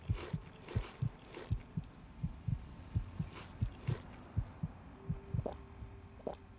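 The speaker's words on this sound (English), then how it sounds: "Get me out of the heart. Get me out of the heartbeat." Heartbeat in the video game Fallout 3: a steady, muffled lub-dub pulse repeating roughly every half second, close and low, with a faint hum and a few soft tones in the background.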